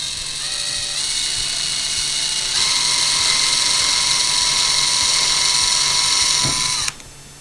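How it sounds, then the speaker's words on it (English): A power drill boring a small pilot hole into a ceiling for recessed lighting, a steady high whine held for about seven seconds, rising slightly in pitch partway through before stopping abruptly, with no talk. "We're going to drill a small little pilot hole exactly where we wanted it, right here."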